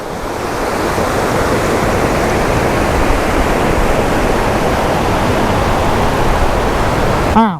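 A waterfall at Doi Inthanon in Chiang Mai sends out a loud, steady broadband roar of rushing water that fills the whole stretch without a break.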